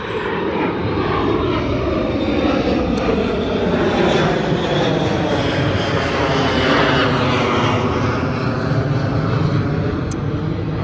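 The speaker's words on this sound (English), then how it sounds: "There's a larger Delta jet taking off." A large Delta jet airliner taking off at Detroit airport, its engines a loud, steady roar throughout, close and unbroken.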